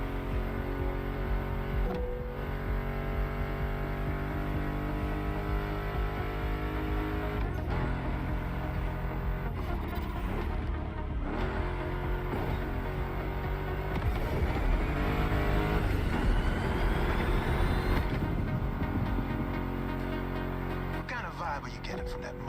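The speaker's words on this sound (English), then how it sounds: "Meshes well with the sound of the engines, you feel me?" A Ford Mustang GT muscle car engine in the racing video game The Crew Motorfest rumbles steadily under loud rock-style music, swelling at times as if revving, while a voice talks over it.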